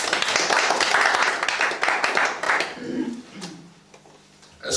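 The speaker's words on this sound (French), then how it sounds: "Acclamons pour le Seigneur." A church congregation clapping and calling out in praise, a dense burst of applause and voices that fades after a few seconds before a brief swell at the end.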